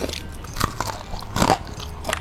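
Crispy fried chicken with garlic and chili oil bitten into close up, three distinct crunchy bites with chewing crackle between them, no talk.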